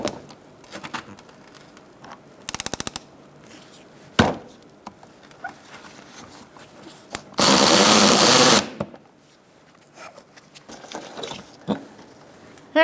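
A 10mm socket wrench works the fasteners on a 2000s Ford Taurus front bumper cover, with a short burst of rapid ratchet clicks, scattered knocks and handling noises, and one louder, rougher whirring burst partway through.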